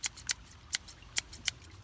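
Scissors cutting near brake work on a Dodge Grand Caravan, a handful of crisp snipping clicks spaced irregularly, close and sharp over a quiet background.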